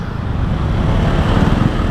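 Steady, dense road traffic noise with engines idling and creeping, a continuous low rumble of many vehicles close by, no talking.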